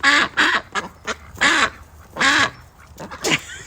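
A duck quacks loudly and close by, a series of separate raspy calls with short gaps between them, and no other sounds around.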